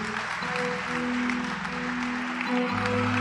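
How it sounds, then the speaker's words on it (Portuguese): A church congregation applauds steadily at moderate volume through a prophetic worship service, with sustained organ or keyboard chords underneath. "Aplaude mais forte, é para Jesus."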